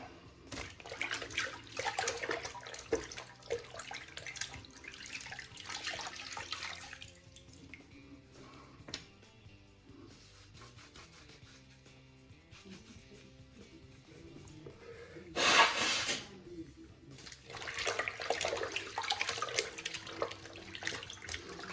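Water runs from a tap as a man rinses off after a straight razor shave, a steady splashing rush that drops to a quieter trickle midway, then returns with a loud burst of splashing before resuming full flow.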